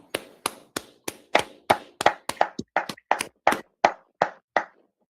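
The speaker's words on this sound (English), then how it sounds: "All right, clap it up." About fifteen sharp hand claps in a steady, slightly uneven rhythm, close and distinct with short gaps between each, during a scripture class.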